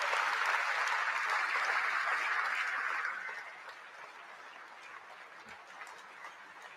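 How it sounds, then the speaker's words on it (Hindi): A large audience at the INS Vikrant commissioning ceremony in Kerala claps to welcome the Prime Minister, loud dense applause that drops sharply after about three seconds to a quieter, thinning patter. "जोरदार, दमदार, जानदार तालियों के साथ स्वागत कीजिए भारत के प्रधानमंत्री"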